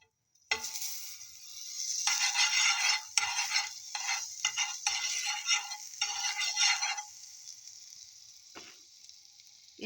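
Blue Band butter sizzling and being stirred in a pan with ripe bananas, bursts of crackling frying noise starting abruptly and fading in and out, with a faint clink near the end.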